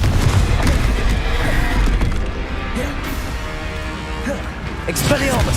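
A Confringo blasting spell is cast in the video game Hogwarts Legacy, a loud booming explosive burst over dense combat sounds, with a voice shouting during the fight.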